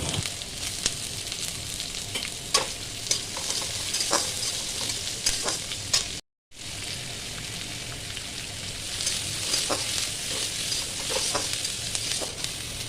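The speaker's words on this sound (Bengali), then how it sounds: "তেলের মধ্যে তেজপাতা, শুকনো লঙ্কা, গোটা গরম মশলা আর কুচানো আদা, রসুন আর পেঁয়াজ দিয়ে কিছুক্ষণ নাড়তে হবে" Bay leaf, dried chilies, whole garam masala, chopped ginger, garlic and onion fry in hot oil with a constant crackling sizzle, stirred with scattered scraping taps, briefly cut to silence midway.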